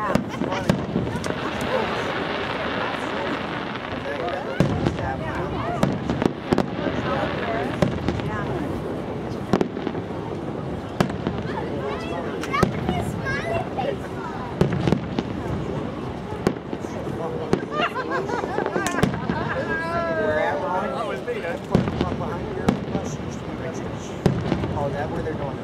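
Fireworks bursting at an outdoor fireworks festival, a steady run of pops and crackles over crowd noise and people talking throughout.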